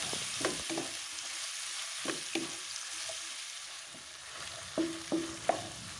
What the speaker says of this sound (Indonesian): Selanjutnya masukkan sayur pokcoy. Kemudian diaduk-aduk hingga sayuran layu.